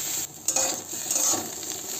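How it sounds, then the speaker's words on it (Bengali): Prawns fried in a pan with just a drop of oil sizzle softly as they are stirred, with a few utensil scrapes and clinks against the pan, no voices. "চিংড়ি মাছগুলো একটু নেড়ে চেড়ে ভেজে নেব"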